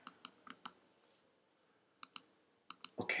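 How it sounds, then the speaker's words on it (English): Computer mouse clicks during fiddly work with drawing tools: a few sharp, quiet clicks in quick pairs and clusters separated by a pause, close by and alone, then a brief rustle at the end. "supposedly I'm clicking here and then dragging down"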